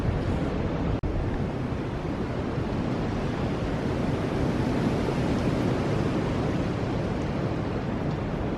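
Constant rushing wind buffets the microphone in a steady, broad roar with no other sounds standing out.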